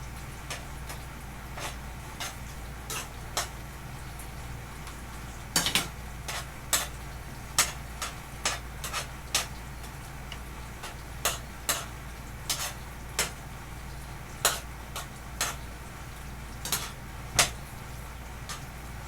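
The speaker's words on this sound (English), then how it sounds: "As these apples cook down, the syrup will get thick and rich." Apples cooking down in a pan of thickening syrup, a faint steady simmer with soft bubbling pops and small ticking clicks recurring at irregular intervals, close and quiet with no talk.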